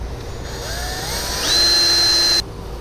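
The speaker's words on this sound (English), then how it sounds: "Now what we have to do is drill in for our air supply and our air out." Step bit drilling air holes in a homemade smoke tester, a steady whining drill that climbs in pitch midway and holds loud before cutting off abruptly near the end, with no talk.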